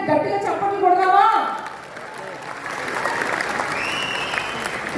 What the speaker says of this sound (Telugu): ఒక్కసారి ఆయన గట్టిగా చప్పట్లు కొడదామా?